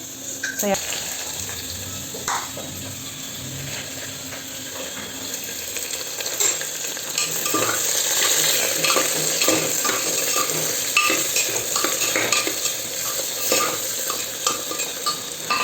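Onions and a turmeric, coriander and red chili powder masala, loosened with a little water, sizzling and bubbling in a pan for a Punjabi gravy chicken dish, with repeated scraping stirs and some watery splashing throughout, moderately loud and close.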